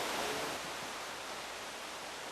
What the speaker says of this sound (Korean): 여전히 그 거친 물소리는 여기까지 굉장히 들리고 있네요